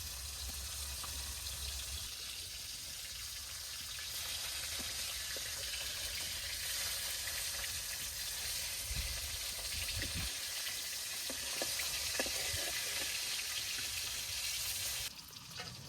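Small jatka hilsa fish fry in hot oil with a continuous, even sizzle and crackle, close and steady, with a brief dip near the end.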